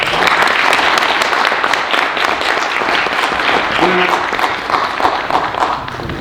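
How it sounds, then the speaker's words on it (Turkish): Audience applause for a young theatre association at a World Theatre Day celebration in Marmaris, a dense sustained clapping from a crowd with some voices mixed in. "Alkışlarınızla."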